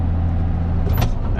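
A car passes on a farm, heard as a steady, close, low engine rumble with a brief hissing swell near the end, and no talking.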